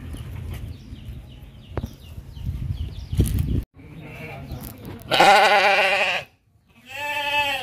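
A Sopas sheep bleats loudly and tremulously in a farm pen in Banyuwangi. Two strong wavering bleats come near the end, separated by a brief pause, after earlier low rustling and indistinct farmyard noise.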